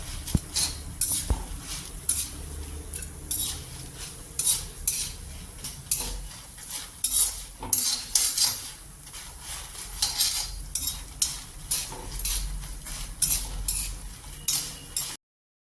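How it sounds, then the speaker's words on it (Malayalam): Spices rattle and scrape in a pan as a spoon stirs them repeatedly over low heat, with metallic clinks and a soft sizzle underneath, no voices. "ഇനി നമുക്കത് ചെറിയ തീയിൽ വെച്ചൊന്ന് മുരിയിച്ചെടുക്കാം"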